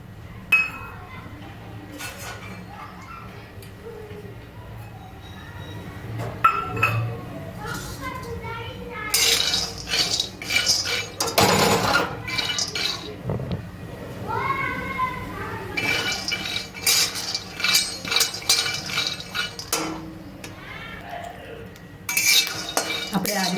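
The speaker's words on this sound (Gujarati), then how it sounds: "આપણે ગેસ ચાલુ કરી એક કઢાઈ મૂકી આપણે કઢાઈમાં શેકી લઈશું" Peanuts roasting in a kadai on a gas stove, stirred with a spoon: repeated metallic scrapes, clinks and rattles of nuts against the pan, close and fairly loud, with occasional background sounds between bursts.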